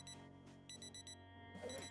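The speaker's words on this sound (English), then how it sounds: "Alarm going off." An alarm goes off in the video game Project Zomboid, a faint electronic beeping in short bursts over a low steady game hum.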